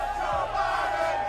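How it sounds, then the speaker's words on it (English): A crowd at a public event keeps up a steady, dense roar of voices, broad and continuous throughout with no single voice standing out. "As you can hear the chants from the crowd."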